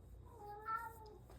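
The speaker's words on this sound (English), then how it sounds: "here goes my cat." A pet cat meows once, a short, fairly faint drawn-out cry rising and falling in pitch against a quiet room background.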